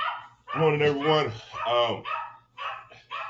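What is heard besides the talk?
dog barking in the background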